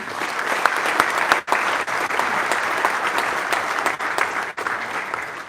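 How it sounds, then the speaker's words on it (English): A conference audience at the KTM MotoGP presentation applauds Paul Espargaro: dense, steady clapping from many hands throughout, with brief dips near the start and end and no talk over it. "Applause for him."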